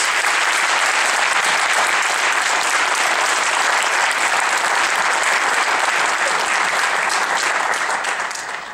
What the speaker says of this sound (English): give them a well-deserved round of applause for their teachers